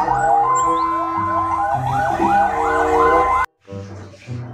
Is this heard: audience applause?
no